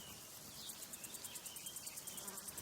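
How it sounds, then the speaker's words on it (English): Steady buzzing of many insects in a British hay meadow fills the air, a soft continuous drone with faint pulsing wingbeats, no voices. "This meadow is filled with insect life"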